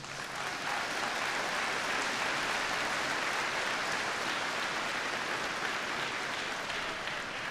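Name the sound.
graduation audience applauding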